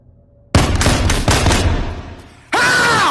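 An AK rifle hip-fired in the VR game Split Second: a loud, close, rapid burst of automatic shots lasting about two seconds, followed by a sharp sweeping, ringing tone.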